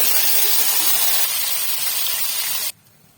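Fish sizzles loudly in a hot kadai with oil and a few cumin seeds, a dense steady hiss that cuts off abruptly near the end.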